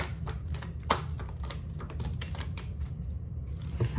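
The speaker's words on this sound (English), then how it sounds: "Just pulling some oracle cards for you." Oracle cards are shuffled and pulled by hand, giving a run of quick crisp riffling snaps and taps at close range, fairly quiet, with a brief pause near the end.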